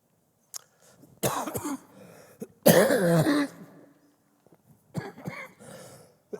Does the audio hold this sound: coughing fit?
yes